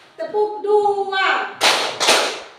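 Children clap in rhythm during a classroom clap game, two sharp broadband bursts of clapping ringing out loud and close after a teacher's sung counting.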